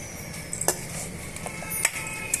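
Puffed rice munta masala mixed by hand in a bowl, giving a soft rustle with a few sharp clinks of a spoon against the dish, close and fairly quiet, with no voices.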